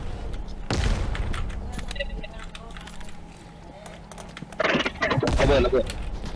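Bursts of gunfire in the video game Lost Light erupt in short volleys, loud and close, separated by quieter stretches, with a voice talking over the action.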